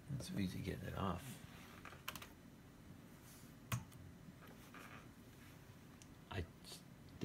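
Keys clatter on a computer keyboard in short bursts and scattered single clicks, close and fairly quiet, with a voice talking over the start.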